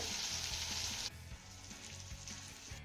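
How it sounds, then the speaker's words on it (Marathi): Tomatoes sautéing in a hot pan give off a close, steady sizzle, loudest for the first second and then settling into a softer fry with faint stirring and scraping, no voices. "आता हा घातलेला टोमॅटो आपल्याला चांगला मौसूद परतून घ्यायचा आहे"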